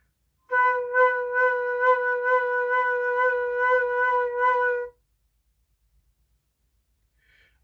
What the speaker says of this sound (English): If you increase those to quaver attacks, quaver hits, it sounds like this.